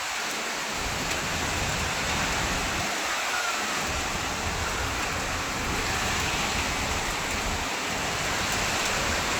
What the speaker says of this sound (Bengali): প্রচুর প্রচুর প্রচুর বৃষ্টি হচ্ছে